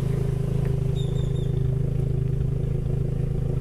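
A Volkswagen Pointer pickup fitted with a Passat exhaust idles steadily close by, its engine giving a low, even, pulsing rumble with faint clatter throughout.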